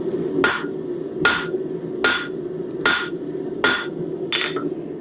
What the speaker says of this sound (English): my hammer strikes aren't quite as precise as I'd like them to be